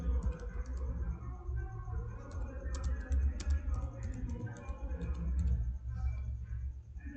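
Quick light key clicks from a computer keyboard tap in irregular runs, soft and fairly close over a low steady hum.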